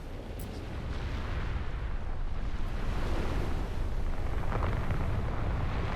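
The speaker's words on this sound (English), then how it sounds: "the floating Terra Tower does return to Earth with a thud" The floating Terra Tower in Chrono Cross collapsing to Earth: a sustained, heavy low rumble with roaring, windy noise that swells after the first second and holds steady, with no talk.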